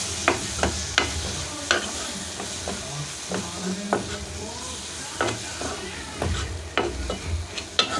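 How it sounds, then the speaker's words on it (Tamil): A small tomato fries in a pan with a steady sizzle and hiss, punctuated by repeated sharp scrapes and clacks of a spoon stirring against the pan, close and fairly loud, with no voice. "ஒரு சின்ன தக்காளி தான் சேர்த்துக்கிறேன் நான் இப்போ இதையும் நல்லா வதக்கிடலாம்"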